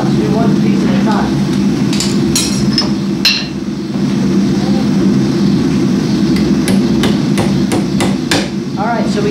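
Rivets are hammered on an anvil while a spatula is being made, sharp metallic strikes ringing out at irregular intervals over a steady background drone, with people talking now and then.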